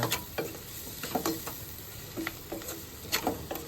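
Chopped onion sizzles and crackles in a hot pan, with irregular pops and soft scraping stirs recurring every half second or so, close up and steady, with no talking.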